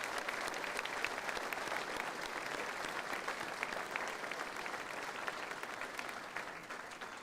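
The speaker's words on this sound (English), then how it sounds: "they all deserve a round of applause for the way they look" Sustained audience applause at a Western Australia Police Force recruit graduation ceremony, a dense steady wash of many hands clapping that holds for several seconds before easing slightly at the end.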